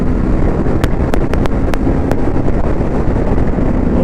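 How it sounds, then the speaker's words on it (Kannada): Heavy wind buffets the microphone on a moving 2025 TVS Apache RR310 race motorcycle at low throttle, a constant loud roar with a few sharp clicks. "heavy heavy heavy wind blast ಇದೆ,"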